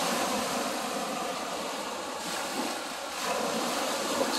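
Broad rushing wash of lake water rolling against a shore, steady and fairly loud, with wind mixed in and no voices.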